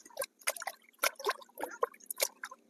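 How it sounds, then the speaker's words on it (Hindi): Jaggery powder being stirred into water, giving irregular clinking, sloshing and liquid splashing sounds at a brisk uneven rhythm, close up with no talking. "घोलने के बाद में अच्छे से 2-3 बार इस तरह से आपको घुमाकर उसको मिला देना है"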